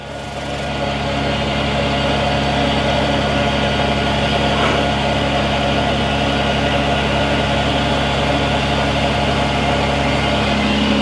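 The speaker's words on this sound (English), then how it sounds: "Swap it over to the compressor. Let y'all watch it build a little air." The air compressor on a 2008 Freightliner Business Class M2 106 crane truck runs steadily beside the idling engine, a constant mechanical drone and hum that holds at the same level throughout with no talking.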